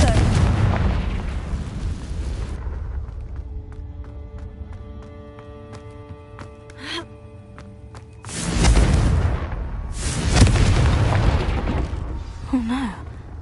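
Confringo blasting spell explosions in the Hogwarts Legacy video game: two loud, booming blasts with a crackling tail in the second half, over a bed of ringing, tonal game ambience.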